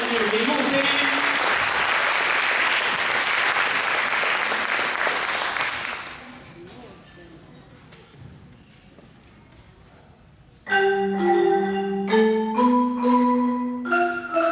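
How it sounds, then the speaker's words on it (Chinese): A school showcase audience claps loudly for two performers about to play Scott Joplin's piece, dense applause filling the first six seconds, then a quiet gap before piano notes begin. "让我们掌声欢迎文汝言与林木青"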